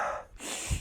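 A single quick, close sniffing breath drawn in through the nose, sharp and brief, with no voices around it.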